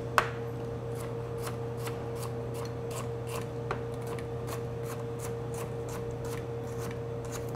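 A knife repeatedly cuts and snaps celery stalks, producing a regular series of short crisp clicks and crunches at close range over a steady background hum.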